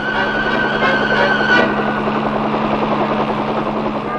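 An army rescue helicopter flying during an aircraft recovery operation, a steady loud rotor and engine drone that holds throughout at close range.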